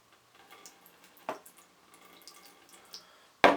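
Water poured over a visor with a hydrophobic Oakley-style coating beading it off: faint scattered drips and small splashes, then a sharp louder splash at the end, with no talk.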